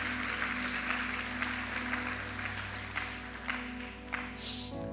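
Church congregation applauding after a Portuguese sermon by Pastor Claudivan Galdino, a steady low wash of clapping with a sustained hum underneath, the claps thinning toward the end.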